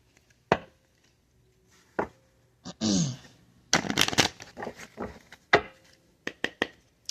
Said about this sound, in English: Oh, should we shuffle? Yeah, we'll do like one good shuffle.